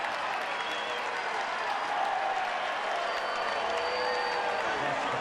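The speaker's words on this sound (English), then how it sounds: "The Yankee fans here standing and cheering." Yankee Stadium baseball crowd standing and cheering after a home run against the Orioles, a broad, sustained roar of applause and shouting that holds at an even, loud level from start to finish.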